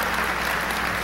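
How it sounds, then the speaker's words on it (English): A live audience at a Fable 2 game presentation claps in dense, steady applause, loud and continuous for the full second with no voices over it. "Big round of applause for Josh."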